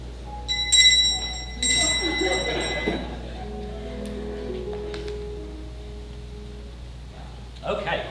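A bell strikes a few times with bright ringing tones, then its ring fades slowly into background hum, with speech heard around it.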